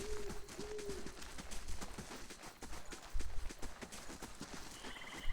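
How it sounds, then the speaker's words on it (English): Horses clip-clopping in Pillars of Eternity, a steady run of hoof beats close by with soft ambient birdsong, a brief whinny-like tone early on, and no speech. "There's the horses."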